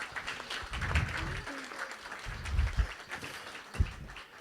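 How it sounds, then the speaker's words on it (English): A round of applause from the crowd at a community Kwanzaa celebration, faint and scattered, with a few louder low claps and murmuring voices underneath. "Round of applause."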